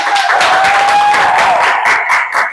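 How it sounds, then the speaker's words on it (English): A grade 5 class applauds, loud close clapping with cheering voices, fading into separate claps by the end. "get a round of applause?"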